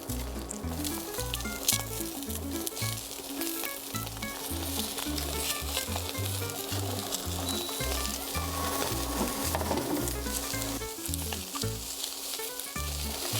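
Barese sausages with peppers sear in a hot pan, a loud, steady sizzle and crackle running throughout over a low pulsing hum, with no talk.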